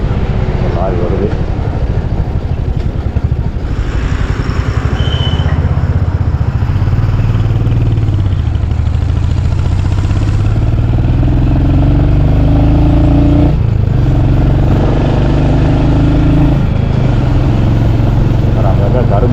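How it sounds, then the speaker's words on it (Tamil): A lorry climbs the Bannari to Thimbam mountain ghat road, its engine a steady low drone that rises in pitch as it gains speed and passes nearby, with someone talking over it throughout. "லாரி வருது."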